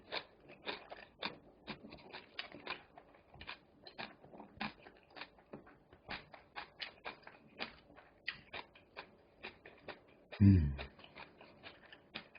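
Raw anchovy and minari salad is chewed close up, with soft, irregular wet crunching and chomping at a low level, and one louder bump near the end.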